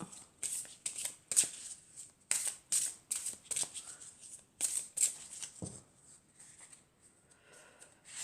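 Tarot cards being drawn and handled: soft, close crisp card rustles and slides in irregular bursts, quiet and without speech.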